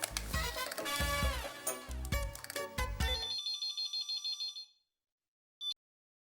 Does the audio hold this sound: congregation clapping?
no